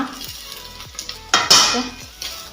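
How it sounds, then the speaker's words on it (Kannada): Green mussels go into a pan of fried onions, with clinks and scrapes of a utensil against the pan and a louder sizzling burst as they land, close and busy. "ಈಗ ಪಚ್ಚಿಲೆಯನ್ನು ಹಾಕ್ಕೊಳ್ಳೋಣ."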